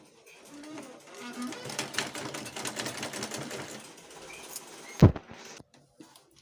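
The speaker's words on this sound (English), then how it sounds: "I'll first of all use my normal thread to stitch up those parts where I'll be inserting my elastic" A domestic sewing machine stitches fabric for a smocked puff sleeve in a rapid, even run of needle chatter that stops abruptly, followed by a sharp knock and quiet.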